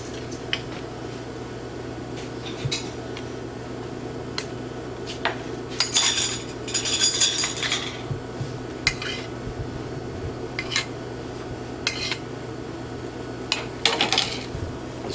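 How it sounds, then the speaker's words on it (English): Forks and dishes clink in a kitchen as a cod dish is served, with scattered sharp metallic taps and a couple of louder rattling bursts over a low steady background hum. "Grab a couple forks, Tommy, would you?"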